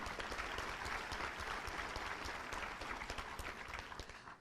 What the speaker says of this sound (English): let's give Lisa Knox a round of applause